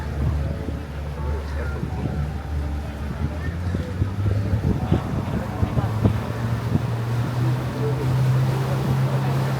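A boat moving across a lake, with a steady low engine hum and water wash close by, mixed with wind buffeting the microphone throughout; faint voices murmur in the background.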